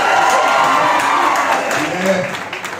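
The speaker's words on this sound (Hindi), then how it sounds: "एक बार जोरदार ताली बजाओ ताकि लगे।" A lecture and poetry-recitation audience claps loudly in a dense, steady burst that tapers slightly toward the end, with a voice mixed in.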